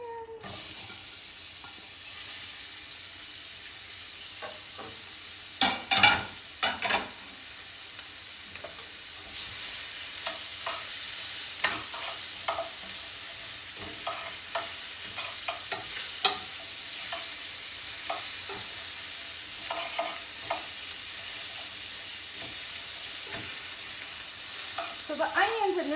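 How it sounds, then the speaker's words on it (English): Onions hit a hot pan and fry with a steady bright sizzle and hiss, punctuated by scraping stir strokes, close and constant with no talking. "And here goes the onions."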